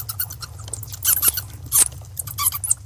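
Colony of bats in a cave giving rapid, shrill squeaks and chittering calls in uneven clusters, some sharp and close, over a steady low hum of background noise.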